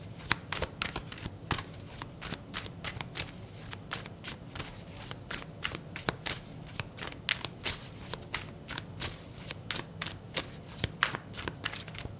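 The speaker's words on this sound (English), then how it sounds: "I'm going to clarify the cards and pull some advice." Tarot cards being shuffled and pulled from the deck at close range: a steady run of soft, crisp riffling flicks and slaps, quiet and even, with no talking.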